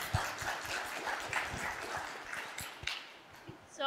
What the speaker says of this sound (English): Cassandra and Roman, give them a big round of applause.